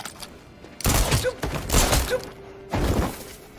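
Gunfire in the video game Detroit: Become Human: three loud, heavy bursts of shooting, each lasting a fraction of a second to half a second, separated by brief quieter gaps with a low background hum.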